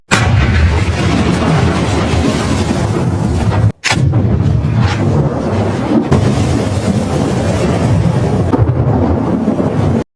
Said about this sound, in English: The bomb detonates and produces a powerful mushroom cloud and subsequent shockwave.